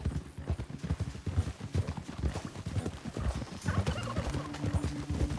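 Horse hooves clip-clopping in Red Dead Redemption 2, a steady run of close, loud hoof strikes on a road, with a brief whinny and some background game sound.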